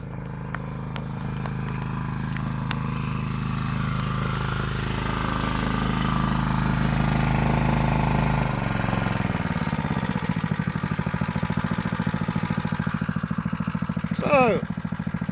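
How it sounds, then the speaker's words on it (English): A farm engine runs steadily at close range in rural New England Tablelands country, a constant low droning hum that drops in pitch and softens partway through as it is throttled back, with brief faint chirps near the end. "we back that off, let the engine cool down just a little bit."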